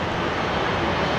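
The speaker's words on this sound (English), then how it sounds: "the heavy I was hearing was the Jetstar 787, which is now on the move" A Jetstar Boeing 787 rumbles at Brisbane Airport as a steady, broad engine roar, loud and unbroken over a short stretch, with no voices.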